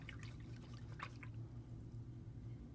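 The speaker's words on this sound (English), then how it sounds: "Rinse out my brush." A paintbrush is rinsed in water, giving soft faint drips and swishes up close over a low steady background hum.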